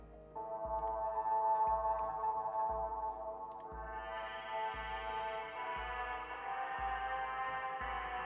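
A lead synth patch in Ableton Live plays a sustained, bright tone over a steady pulsing low beat, with a thumping bass note repeating about every second throughout.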